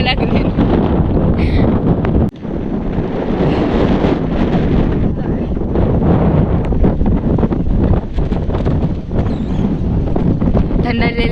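Strong wind blowing outdoors at Mahabaleshwar, a hill station, buffeting the microphone as a loud, continuous roar that barely lets up for the whole stretch.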